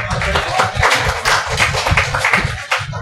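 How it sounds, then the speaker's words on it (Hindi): An audience claps at a Hindi poetry recital, brisk scattered applause running throughout beneath a voice speaking over it. "ये लोग जो ताली बजा रहे हैं तुम्हें सुनकर"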